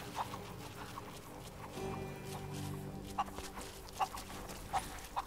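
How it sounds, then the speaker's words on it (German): A chicken in the video game Rise of the Tomb Raider gives several short, sharp clucks over steady low background game ambience. "Ich habe einen Huhn gefangen."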